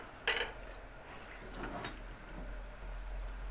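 A single sharp metallic clink near the start, then a softer clatter a second later as a lid is set onto a boiling pot of rice pilaf, over a faint steady hum.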